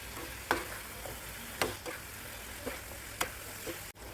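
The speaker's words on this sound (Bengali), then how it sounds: "এবার একটু নেড়ে চেড়ে নিচ্ছি।" Drumsticks frying in a mustard sauce in a pan are stirred a few times, each stir giving a sharp scrape over a faint, steady sizzle.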